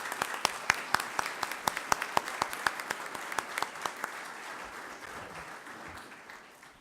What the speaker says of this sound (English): Let's give all our participants there a big round of applause.